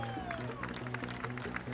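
Crowd at a golf course clapping and cheering after a par, a short, moderately loud burst of applause with a voice heard over it.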